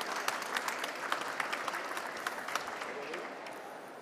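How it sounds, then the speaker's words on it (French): An audience at an orchestra start-up contest in an arena hall applauds a third-prize winner, giving steady, dense clapping that fades slightly toward the end. "Oui, ça mérite des applaudissements,"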